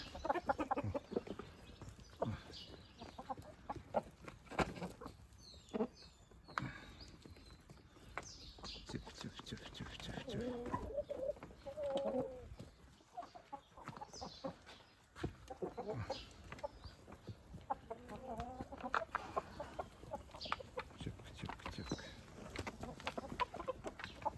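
Jersey Giant chickens, roosters and hens, cluck and cackle intermittently around a farmyard in autumn, with someone talking over them throughout and occasional scuffing and knocking noises.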